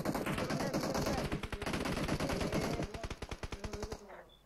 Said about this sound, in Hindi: भाई मेरे पे फायर हो रहा है